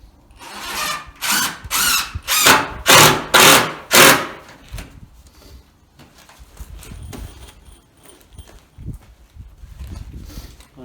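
A power drill drives 2.5-inch screws into 2-inch-thick timber for a large timber-frame door: six loud, close whirring bursts in quick succession, then quieter handling and tapping noises.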